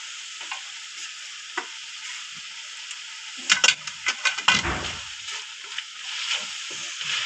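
Mixed vegetables with ginger, green chilli, dry coriander and garam masala being stir-fried, a steady sizzle with scattered spoon scrapes and a brief cluster of louder clatters midway, close and without talk.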